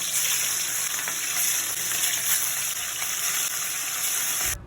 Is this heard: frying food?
yes